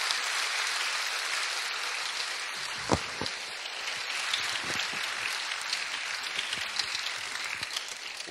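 Applause for the 2014 Miss Strassenfest pageant candidates, a moderately loud, even patter of many hands clapping throughout, with a few sharper individual claps standing out.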